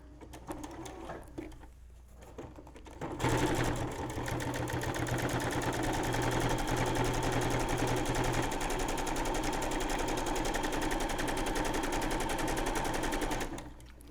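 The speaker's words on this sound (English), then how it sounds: "now we're just going to zigzag over where the twine is" A sewing machine runs a steady, fast zigzag stitch over twine laid on a leather leaf, buzzing loudly and evenly for about ten seconds before stopping.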